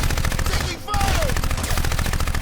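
Rapid bursts of automatic gunfire in the video game Crysis, loud and close, with a brief gap partway through before the firing resumes; a short voice line plays under the shots.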